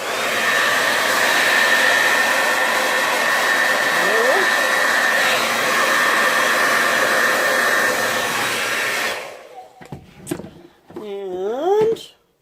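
A hair dryer blows poured white paint over the edge of a canvas in a Dutch pour, a loud steady whir lasting about nine seconds before cutting off, followed by a few brief vocal sounds.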